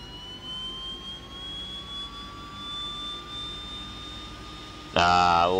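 A Twin Otter's PT6 turboprop spools up during engine start, a rising whine with two climbing tones held steady, then a sudden louder burst of turbine noise near the end.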